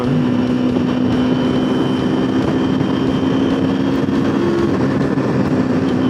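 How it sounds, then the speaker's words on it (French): Steady, continuous drone of a small single-cylinder MZ 125 SM motorcycle engine running nearby, loud and unchanging, with no talking. "Et puis le bruit de son petit mono, il est sympa."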